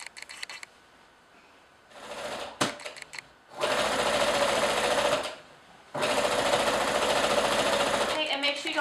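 A sewing machine stitches up the side hem of a fabric clutch, starting with a short burst, then running in two long, loud, steady whirring stretches separated by a brief stop, close to the microphone.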